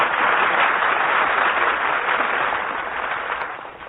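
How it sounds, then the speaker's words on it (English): A studio audience at a comedy show breaks into loud, sustained applause for the boy Dennis, a dense wash of clapping that tapers off slightly toward the end. "Gee, was all that applause for me?"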